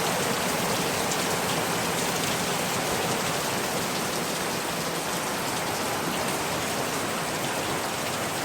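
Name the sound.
heavy rain pouring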